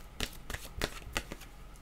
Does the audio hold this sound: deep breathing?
no